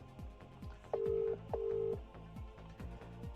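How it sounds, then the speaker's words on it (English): Two long electronic ring tones sound over a phone speaker during a WhatsApp call, steady and moderately loud, separated by a short gap, with faint rhythmic background tapping throughout. "It's ringing."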